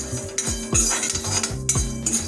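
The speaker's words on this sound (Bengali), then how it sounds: "এখন এগুলোকে আমরা আরো মিনিট 2 ধরে একেবারে লো ফ্লেমে ড্রাই রোস্ট করে নেব" Whole coriander, cumin and fennel seeds dry roasting in a kadai over a low flame, heard as several sharp metallic scrapes and clinks of a spoon against the pan at an irregular rhythm, close and fairly loud.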